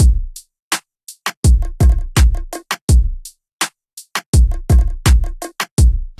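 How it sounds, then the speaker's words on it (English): Bouncy, simple pop drum beat programmed with kick, snare, hi-hats and bongos, velocities varied to feel human-played; punchy hits in a steady, syncopated pattern with short gaps, loud and up front with no talk. "And altogether, the beat sounds like this."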